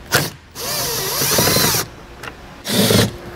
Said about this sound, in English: We're going to use a T30 Torx to remove them.